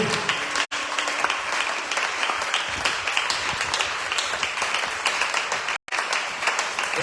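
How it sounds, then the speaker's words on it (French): A church congregation applauds loudly and continuously in a large hall, a dense wash of clapping that runs almost the whole time, broken only by two brief cuts. "Acclame très fort pour le Seigneur."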